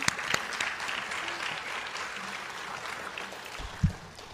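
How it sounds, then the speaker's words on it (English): An audience claps steadily after a classical Indian dance recital, even applause at moderate distance running throughout, with a brief thump near the end. "everyone can give her another round of applause"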